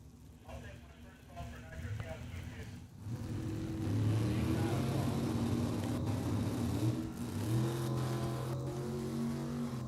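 At a drag strip, a long-bed S10 truck and a left-hand-steer 27T Roadster launch. Engines rumble and then roar as they rev up and accelerate, loud and sustained, with a brief crowd-like murmur early on.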